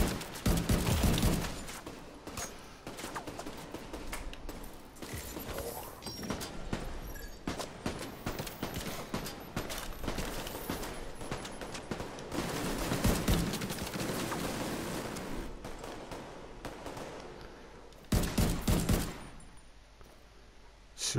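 Gunfire in the video game The Division 2, dense bursts of rapid shots crackling almost continuously, loud and close, with brief lulls and a heavy final volley.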